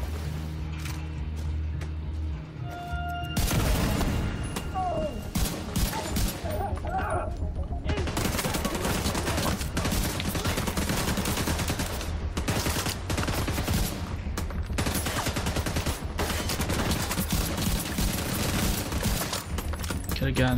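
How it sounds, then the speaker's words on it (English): Grenade blast and rapid gunfire in the shooter video game The Division 2, dense bursts of loud shots after a brief quiet start, with voices under the firing. "I'm gonna throw a grenade to the right."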